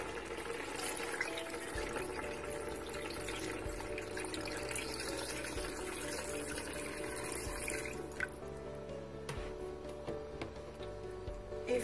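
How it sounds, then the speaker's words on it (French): Water runs steadily into softened onions in a pressure cooker for a Moroccan chicken pastilla, a continuous close splashing stream with light clinks near the end. "rajoutez de l'eau"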